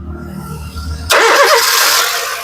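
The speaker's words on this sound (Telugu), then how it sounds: "సింగిల్ లో కార్ స్టార్ట్ అయిపోయింది ఎటువంటి స్టార్టింగ్ ట్రబుల్ అయితే లేదు" A 2011 Honda City S manual car engine cranks from a low hum, then catches in one go and settles into a loud, steady run close by.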